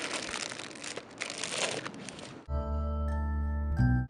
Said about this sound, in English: Now take a gallon-sized plastic bag